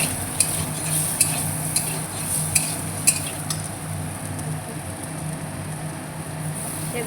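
Vegetables fry in a pan with mustard seeds and chili: a steady close sizzle runs throughout, with a metal spatula clinking against the pan in a regular rhythm for the first few seconds. No one talks.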